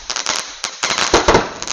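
A string of sharp, crackling bangs fires in rapid uneven bursts, close and loud, from a 25-shot Sivakasi firecracker going off.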